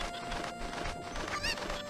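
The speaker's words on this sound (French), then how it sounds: "Il s'agit juste de jeter une poule par-dessus" A chicken thrown in the video game Zelda: Ocarina of Time, in Kakariko Village, lets out one brief, sharp squawk near the end over busy in-game background sounds.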